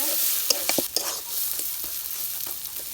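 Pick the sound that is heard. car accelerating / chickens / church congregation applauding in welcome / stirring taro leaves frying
stirring taro leaves frying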